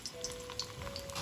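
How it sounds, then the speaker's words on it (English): Green plantains sizzle and crackle quietly in hot oil in a pan, a short burst of soft popping and frying noise. "You want to make sure that the oil starts sizzling when you put something in, like that."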